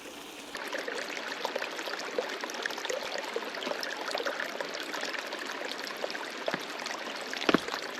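A small mountain creek in Montana flows steadily, a continuous close babbling and trickling with light splashes and gurgles, no voices.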